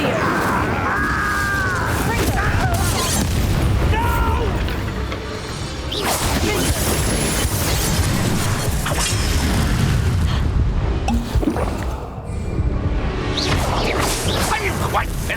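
A fire spell cast in battle in Hogwarts Legacy, with loud booming bursts, whooshes and crashes rolling through a dense, chaotic stretch of combat effects, while voices speak over the din.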